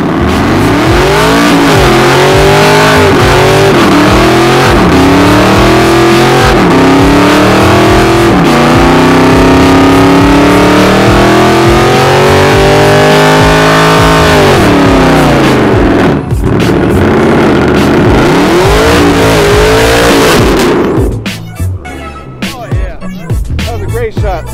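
A car does a burnout, its engine revving hard and loud in rising and falling waves with a roaring, distorted tone for about twenty seconds before it cuts to quieter noise.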